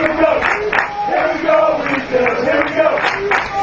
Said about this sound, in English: Good crowd on hand. Both teams well represented despite being a long way away from here.